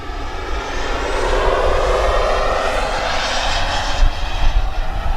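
A Freewing Zeus 45NT radio-controlled turbine sport jet flies by with a steady, loud, broad roar and a high turbine whine that swells slightly toward the end, with no talking.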